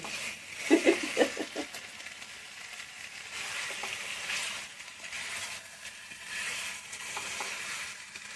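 Potatoes for dahi aloo fry with spices in a pan, giving a steady soft sizzle. A few clattering stirs sound near the start, and the sizzle carries on fairly faint and close.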